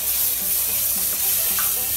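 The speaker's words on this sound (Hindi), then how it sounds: "अब इसको थोड़ा सा 2 मिनट तक हम सॉट करेंगे" Ginger, garlic and chili paste sautéing in a hot pan, a steady, loud, close sizzle with a bright hiss that runs without a break, alone with no voices.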